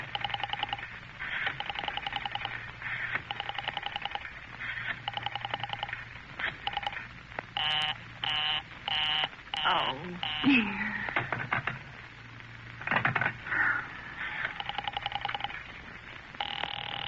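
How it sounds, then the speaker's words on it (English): Telephone dialing and ringing in a classic radio drama, with repeated electronic ring bursts and short tone pulses at moderate level, followed by a brief pause and more tones. "Operator, I've been dialing Murray Hill"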